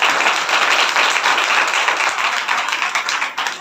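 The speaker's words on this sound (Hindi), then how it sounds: "इस दिन के लिए जोर से ताली बजाएं" Loud, vigorous clapping from a church congregation at an Easter day service, a thick continuous clatter of many hands close by that stays strong and fades a little at the end.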